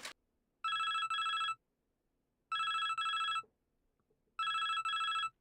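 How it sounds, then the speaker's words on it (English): An electronic telephone ringtone in the NASCAR 2005: Chase for the Cup racing video game rings in three clean double bursts separated by silence, loud and isolated. "Oh, we have 2 phone calls."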